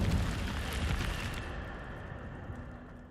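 Incendio fire spell cast in a Harry Potter video game, a loud whooshing burst of flame that starts strong and fades away over about three seconds, alone without talk.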